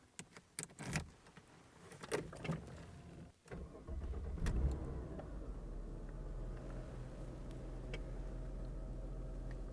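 A 1992 Mercedes 300CE-24 straight-six cranks after a few clicks and rattles, catches, and settles into a steady, low idle that carries on to the end.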